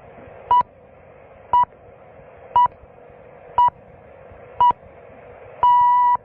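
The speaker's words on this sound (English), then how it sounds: "At the sound of the last tone, it will be 18 hours, Central European Time." Radio time signal on AFN Europe: five short, evenly spaced beeps about one second apart, then a longer final tone, clean and prominent over faint background hiss.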